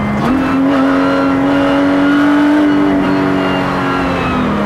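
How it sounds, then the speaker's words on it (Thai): A single-seat Lotus Cup R race car engine runs loud and close, holding a strong steady drone that climbs slightly in pitch, then eases back near the end. "มันคือรถแข่งนี้นี่เอง"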